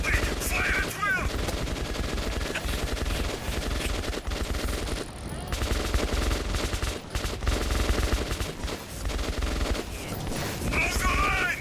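Rapid, sustained gunfire in a colony-survival video game, dense bursts of shots running continuously and loud across the whole stretch, with shouting voices faintly mixed in.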